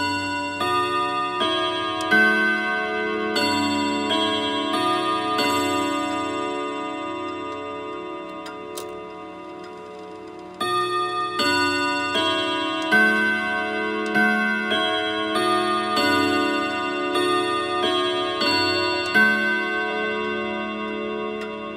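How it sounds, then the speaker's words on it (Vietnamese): Kenji pendulum clock ticking steadily while its loud, ringing chime strikes a series of resonant tones that sustain and overlap, heard up close and alone. "Mời các bác nghe âm thanh của chiếc đồng hồ Kenji này các bác nhé."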